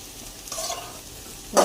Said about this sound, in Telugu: బెండకాయ ఫ్రై అవుతుంది కదా